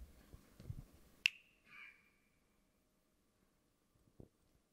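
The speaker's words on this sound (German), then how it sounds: "Ja, wenn du schnippst." A single sharp finger snap rings out clearly in a quiet room, with a brief ringing tail, after faint low rumbles and followed by near silence.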